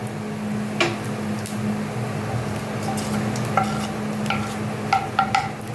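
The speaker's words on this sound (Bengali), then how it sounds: "কালো জিরে ফোড়ন, আর দিচ্ছি একটা শুকনো লঙ্কা।" Nigella seeds and a dried red chilli sizzle steadily in hot oil for a Bengali bhindi bharta, a soft continuous frying hiss with a low steady hum beneath and a few light clinks of utensils near the end.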